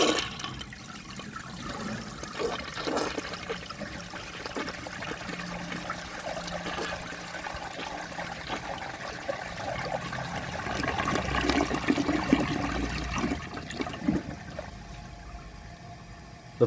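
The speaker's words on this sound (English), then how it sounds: "So let's give this a flush and see how it does on tests." A 1968 Kohler Wellworth toilet with a standard flapper, tank set to the water line, flushing: a loud rushing swirl of water that builds and then trickles off as the bowl drains and refills, no talking.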